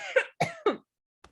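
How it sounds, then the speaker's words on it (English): Three quick, harsh coughs in close succession, loud and near, followed by a short pause and a faint final rasp. "Cough it out."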